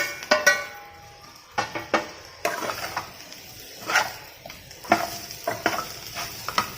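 Fried potato and cauliflower pieces tipped into a sizzling pan and stirred, with repeated close scraping and clacking strokes of a spoon against the pan over a soft frying hiss.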